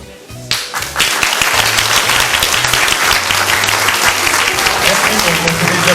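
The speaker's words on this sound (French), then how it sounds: "donc on peut les applaudir" Warm audience applause at a French awards ceremony honouring volunteers and athletes swells up after a brief pause and carries on steadily, a dense sustained crowd clapping with a few louder claps near the start.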